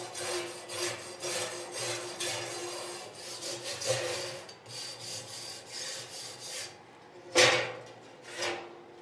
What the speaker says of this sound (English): We'll wire brush that real quick.